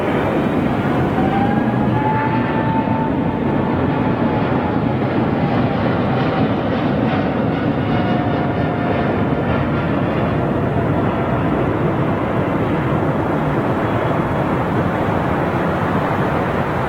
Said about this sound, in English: you better hurry up and get off the runway, Anthony, for this triple